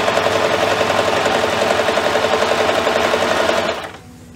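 A sewing machine running a chain stitch on kids' apron fabric hums in a steady, loud, fast mechanical rhythm for nearly four seconds, then stops abruptly, leaving near silence.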